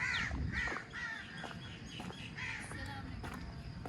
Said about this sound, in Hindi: कौवे हैं काले काले